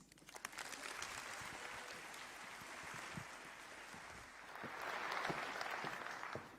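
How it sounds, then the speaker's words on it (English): Conference audience at a BrightonSEO talk giving a sustained round of applause, a dense steady patter of many hands clapping that swells louder toward the end, with no talk over it. "If we could have a big round of applause for Greg"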